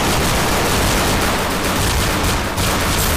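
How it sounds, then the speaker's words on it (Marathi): Gunfire in Counter-Strike, a loud, dense rattle of rapid shots crackling without pause for a few seconds at close range. "मागून पण आता फायरिंग होती"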